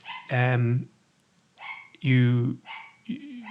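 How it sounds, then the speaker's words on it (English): A dog barks in two loud, close bursts with pauses between them, each ending in a whining yelp, while a person speaks briefly in a room. "Sorry about the dog."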